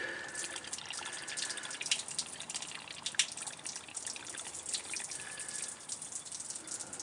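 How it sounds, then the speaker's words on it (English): Fuel draining out of a lifted fuel rail on a 2007 Jeep Wrangler JK with the 3.8L engine, a steady close trickle and dribble of liquid with faint drips, no talking. "It's going to have fuel in it, so I'm just letting it drain."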